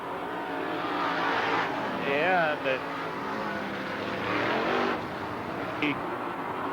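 Stock cars racing at Hickory Speedway on opening night 1996, engines droning and revving as cars pass, with a commentator's voice running over the steady race noise.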